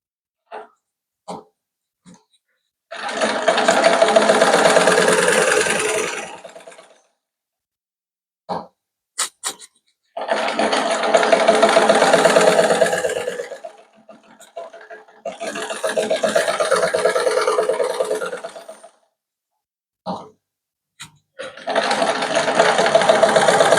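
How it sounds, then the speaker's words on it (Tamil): Sewing machine stitching a lined blouse, running in four separate bursts of several seconds each with quiet gaps between them and a few small clicks and handling noises. "நூல் போட்டால் தான் இப்படி தைக்கலாம்"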